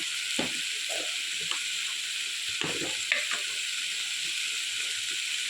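Eggs stir and fry in a pan while cooking pori rice with masala, giving a steady close sizzle with a few soft scrapes and knocks of the spoon.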